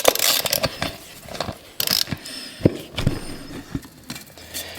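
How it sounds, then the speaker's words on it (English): A ratchet fitted with a 5/32 Allen socket loosening the bead lock bolts on an RC truck wheel, giving rapid bursts of close metallic clicking with brief pauses between turns. "you take a ratchet with a little 532 Allen socket, and then just take off the 6 Allens that hold the bead lock on"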